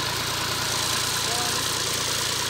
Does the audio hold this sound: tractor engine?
yes